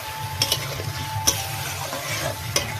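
Mutton curry with taro being stirred in a pot, with soft bubbling and sizzling under a few sharp clinks and scrapes of the spoon against the metal, close by and without speech.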